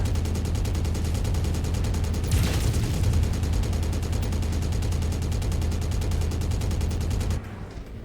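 Sustained machine gun fire pours out in Mechwarrior 5, a dense rapid stream of shots at steady loudness for about seven seconds, swelling with a heavier burst partway through before cutting off abruptly.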